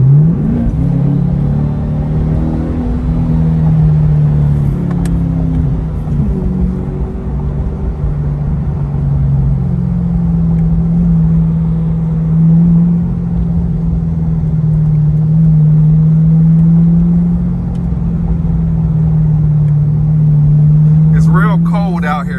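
A C8 Corvette driven on a cold, slippery road gives off a continuous low engine drone and rumble with mild rises in pitch, heard from inside the car with someone talking over it.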